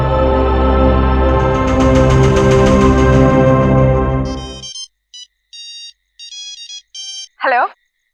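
A mobile phone ringtone plays loudly as a dense, buzzing melodic tune, then breaks into a run of short electronic beeps with gaps, ending in a brief warbling tone.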